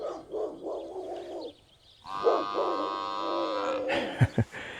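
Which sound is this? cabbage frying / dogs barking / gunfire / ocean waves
dogs barking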